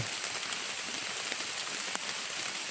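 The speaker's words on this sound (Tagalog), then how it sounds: "Medyo naabutan tayo ng ulan, tol, pasensya na po." Steady rain falls outdoors, a continuous soft hiss of drops hitting surfaces with a few sharper individual drops, moderately quiet and uninterrupted, with no one speaking.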